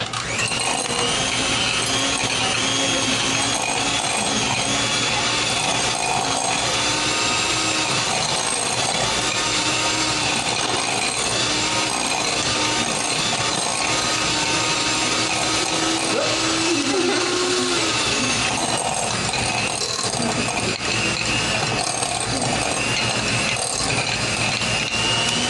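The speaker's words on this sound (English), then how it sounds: "So we have this handy dandy mixer." Electric hand mixer beating carrot pudding cake batter, a continuous loud whirring buzz that holds steady for the whole stretch with slight shifts in pitch as the beaters move through the bowl.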